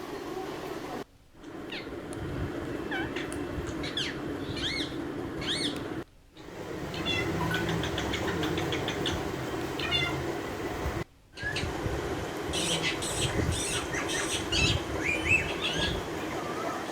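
A pet parrot in Katihar, known for mimicking, gives repeated chirps, squawks and cat-like calls in bursts over a steady background murmur, fairly close, with brief cuts of silence between segments and no clear talk.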